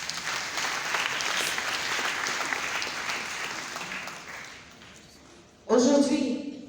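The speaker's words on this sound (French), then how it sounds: "Et pour cela, j'aimerais que vous applaudissiez." An audience applauds in a parliamentary hemicycle, a steady wash of clapping that fades toward the end before a speaker's voice comes in.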